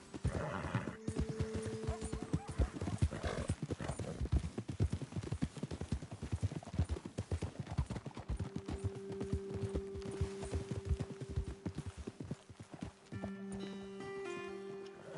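Horses' hooves clip-clop steadily on the ground, close and fairly loud, with a few whinnies rising over the footfalls and brief quiet voices.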